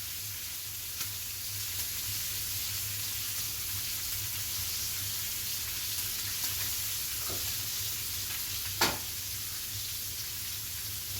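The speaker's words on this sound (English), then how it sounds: "I'm going to add some more beef tallow. I'm going to add my garlic in, and we're going to go ahead and baste these." Lamb loin chops sizzle steadily in hot beef tallow with garlic as they are basted, a constant broad frying hiss with a low hum beneath and a couple of brief clinks, no talk.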